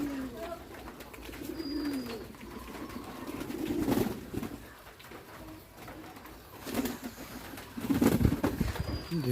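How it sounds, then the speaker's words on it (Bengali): Bombay pigeons gathering to bathe in rainwater, giving low, repeated coos that rise and fall across the clip, with some wing movement and someone talking over them. "দেখুন কবুতরগুলো গোসল করতে চলে আসে।"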